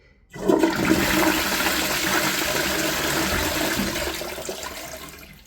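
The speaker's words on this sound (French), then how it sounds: "Là je vais tirer la chasse pour vous montrer." A toilet being flushed at close range: a sudden loud rush of water that holds steady for several seconds, then slowly begins to fade.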